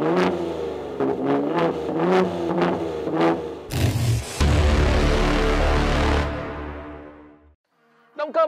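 A 2022 Ford F-150 Raptor pickup's 3.5 V6 twin-turbo engine revs in several rapid bursts, then roars into a long, loud, raspy exhaust blast that fades away before a brief final burst.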